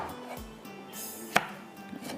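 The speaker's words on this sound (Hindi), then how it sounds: "अब पहले मैं इसको थोड़ा सा कटिंग कर लूँ" Vegetables cut with a knife in a kitchen while making karahi fish, several soft scattered knife strokes with one sharp crisp chop standing out, quiet and close, no talking.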